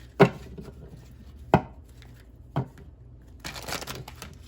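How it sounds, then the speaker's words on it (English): Sharp playing-card handling sounds: three quick slaps of cards spaced about a second apart, then a brief riffling shuffle flutter, close by and without talking. "my hands are getting so bad I can't even shuffle cards anymore."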